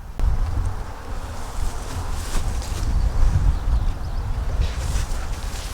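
Honey bees swarm around an open beehive during a varroa mite check, their steady, close buzzing humming continuously without any talking.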